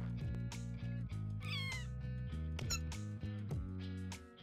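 A cat meows over busy video game music and sound effects in No More Heroes, the calls brief and partly buried under the soundtrack.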